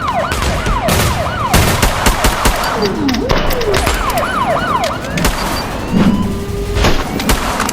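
Rapid gunfire in a Spider-Man VR video game, loud bursts of shots mixed with sweeping siren-like game effects that rise and fall, a busy, continuous barrage with no talking.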